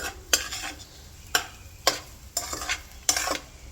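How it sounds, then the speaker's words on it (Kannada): Egg seasoned with pepper powder is stirred and fried in a pan, heard as a few sharp spatula scrapes and taps over a soft, continuous sizzle, close and without speech. "ಆ ಮೊಟ್ಟೆದು ಹಸಿ ಸ್ಮೆಲ್ ಹೋಗೋ ಗಂಟನೂ ನಾವು ಫ್ರೈ ಮಾಡ್ಕೋಬೇಕು."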